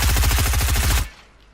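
Rapid, loud bursts of automatic gunfire hammer through a built wall in Fortnite, a steady stream of shots for about a second before cutting off abruptly into quiet room tone.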